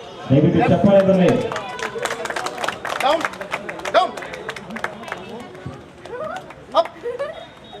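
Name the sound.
audience applause at pet animal show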